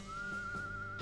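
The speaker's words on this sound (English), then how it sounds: "Why are you whistling?" Steady, sustained single-pitch whistle from a character in the West of Loathing video game, held evenly for about a second over a low background hum.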